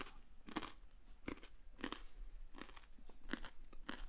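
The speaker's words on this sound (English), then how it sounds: "I'm crunching again" Someone biting and chewing raw carrots close to the microphone, giving crisp, crackly crunches at irregular intervals of about half a second, fairly faint against a quiet room background.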